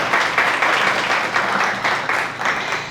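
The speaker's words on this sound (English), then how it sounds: "Clap it up." A conference crowd at a live real-estate event claps together in a loud, sustained burst of applause that pulses slightly in rhythm and tapers toward the end.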